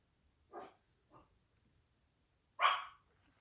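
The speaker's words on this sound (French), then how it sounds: "Ce sont des petits chiens, mais alors dites donc, qu'est-ce qu'ils aboient" Small dogs give three sharp barks, two quieter ones close together and then a louder bark after a pause, against a near-silent background.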